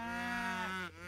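Cows mooing in the strategy game Age of Empires III, a single long, loud, low bellowing moo that dips in pitch and fades at the end.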